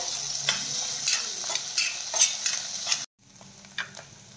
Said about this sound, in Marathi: बारीक चिरलेला कांदा टाकून घेऊयात आणि कांदा छान सोनेरी रंग येईपर्यंत तळून घेऊयात